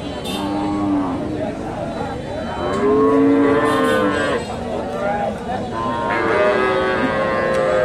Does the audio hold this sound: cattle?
yes